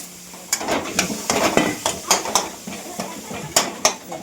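Potato masala frying in a pan while a metal spoon stirs it, giving repeated scraping clinks in an uneven rhythm over a soft sizzle, close and fairly loud.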